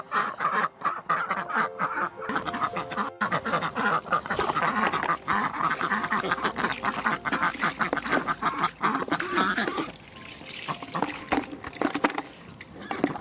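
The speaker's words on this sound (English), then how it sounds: "So the ducks live in two separate houses, and each morning I let them out." A flock of ducks let out of their houses on a micro farm in the morning, quacking densely and continuously at close range, the chorus thinning near the end.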